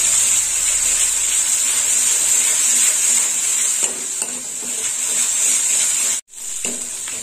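Garlic paste frying with onions in a pan while being stirred, a steady bright sizzle with scraping stir strokes throughout and a brief break near the end.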